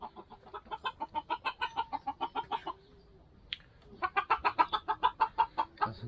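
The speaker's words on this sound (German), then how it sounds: "Hier sind jetzt unsere Hähne drin." Young roosters in a coop give rapid, rhythmic clucking bursts, close and fairly loud, in two runs separated by a brief quiet pause with a single squawk.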